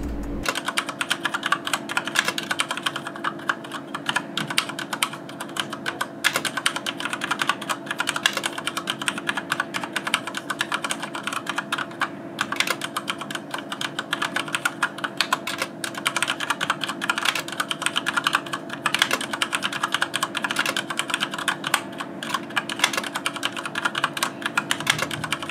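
Steady, fast typing on a Mad Catz STRIKE 4 mechanical keyboard with Cherry MX Red switches: dense, even clicks of keystrokes continue without pause over a low constant hum.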